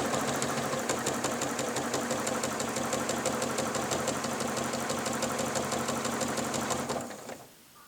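A sit-down quilting machine stitches a vertical pass along a quilting ruler, a rapid, even mechanical chatter that runs steadily up close and then stops near the end.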